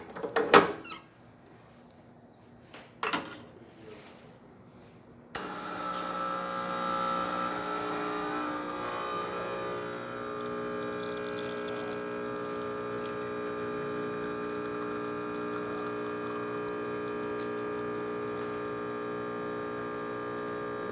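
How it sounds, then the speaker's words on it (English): A serviced Vetrano 2B Evo espresso machine pulls a test shot: a few clicks and knocks, then the pump switches on with a loud, steady vibrating hum that runs without a break to the end. "So let's go ahead and test it, make a espresso shot of it."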